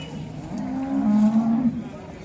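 Cow at the Modnimb cattle market lowing once in a long, close moo, with faint crowd murmur behind.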